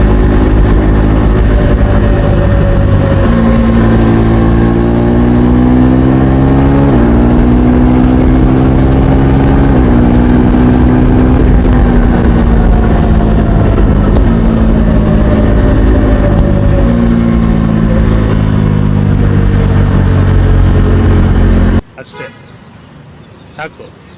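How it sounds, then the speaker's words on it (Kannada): A KTM Duke 250 Gen 3 with its 249cc single-cylinder engine revs loud and close for about twenty seconds in repeated rising pulls, then cuts off abruptly, leaving faint background sounds. "ಇನ್ನು ಎಕ್ಸಾಸ್ಟ್ ಕೇಳೋದಾದರೆ ಇದು DOHCಯಿಂದ SOHCಗೆ ಕನ್ವರ್ಟ್ ಆಗಿರೋದ್ರಿಂದ ಫುಲ್ ಚೇಂಜ್ ಆಗಿಬಿಟ್ಟಿದೆ"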